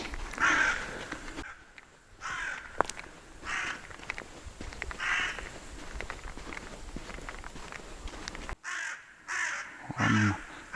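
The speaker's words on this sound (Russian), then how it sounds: "Вон лесная ворона." A few crow caws ring out over rustling footsteps on a forest path in June, the calls moderately near and spaced apart, with quiet gaps between.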